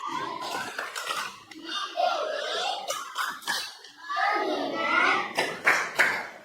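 A group of children doing a rhythmic classroom focus clap led by a teacher, several bursts of sharp claps interleaved with children's chanting voices, moderately loud and close.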